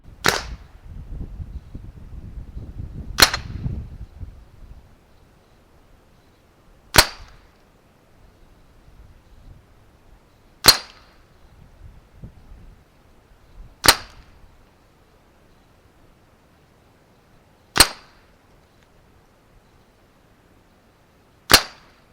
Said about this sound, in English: At least it sounds like we hit some steel.